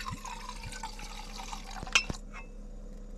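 Gin poured into a camping cup for a gin and tonic outdoors, a soft liquid trickle with a brief clink of the cup near the end, heard close and quiet.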